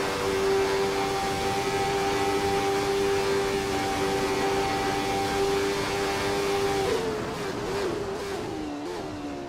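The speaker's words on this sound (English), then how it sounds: "Jet Russos is driving through Stavelot" Simulated race car from a racing video game, a Jordan 191 at Spa in 1991, holding a steady loud engine note through Stavelot before the pitch drops and wavers near the end as it lifts off.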